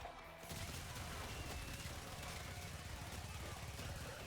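Rapid, continuous fire from the Dual Toxocyst Incarnon pistols in Warframe. After a short lead-in, a steady dense stream of shots carries on for about four seconds, close and loud, with no talk.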